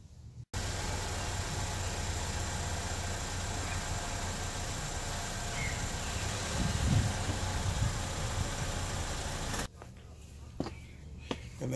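A car's engine idles steadily and close by, a continuous low hum with broadband noise, while the vehicle is shifted a short distance during tire dressing and detailing; it cuts off near the end, leaving a few faint taps.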